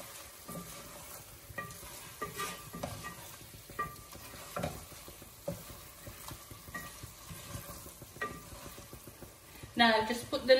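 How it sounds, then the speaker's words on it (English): Egg bhuna being stirred in a pan after chili and coriander go in, giving soft sizzling under scattered scrapes of the spoon and a brighter burst of frying near the end, close by with no voice. "At this point, I'm going to add my chili and my coriander. Give it another mix."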